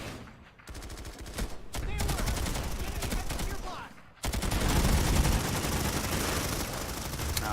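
Dense, continuous gunfire from the Planetside infantry shooter game, with rapid overlapping automatic bursts from several weapons, loud and close throughout with a brief dip near the middle.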